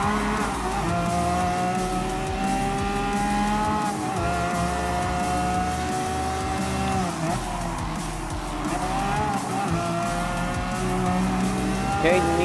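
Race cars such as a Nissan GTR and an Aston Martin Vulcan in Gran Turismo Sport, engines droning and shifting pitch steadily with occasional tire squeal, a voice faintly underneath.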